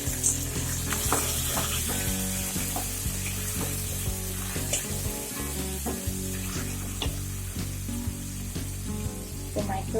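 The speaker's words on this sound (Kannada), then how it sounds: "ಸ್ವಲ್ಪ ಫ್ರೈ ಆದ್ರೆ ಸಾಕು. ಸೋಯಾ ಸಾಸ್ ಹಾಕೊಳ್ತಾ ಇದ್ದೀನಿ." Cauliflower Manchurian fries in a pan as soy sauce goes in, a close, continuous sizzle with crackling bursts and occasional stirring scrapes, fairly quiet and without talk.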